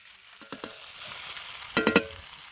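Eggs poured into a hot pan for a Bengali village-style ludus, giving a crackling sizzle with a few sharp bursts near the end, fairly close and alone.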